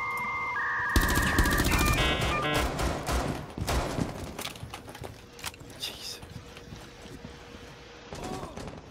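Gunfire in the video game Rainbow Six Siege comes as loud, rapid bursts of automatic shots mixed with electronic beeps and game effects. A player talks over the action.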